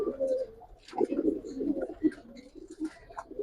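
Giribaz pigeons with silver colouring coo in soft, low, repeated murmurs, fairly close, with a few brief higher calls mixed in and no talking.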